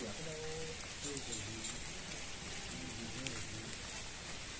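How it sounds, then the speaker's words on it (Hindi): Light rain falls steadily in an outdoor setting, a soft, continuous hiss of drops, with a voice talking faintly beneath it. "हल्की हल्की बारिश हो रही है"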